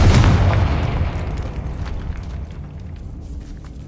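A Confringo fire spell from the Hogwarts Legacy video game detonates in a catacomb with a loud booming blast that rumbles and slowly decays over several seconds.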